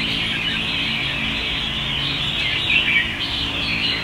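Caged songbirds for sale at a bird shop keep up a continuous, bright chorus of chirps and tweets, steady and fairly close, with no talk.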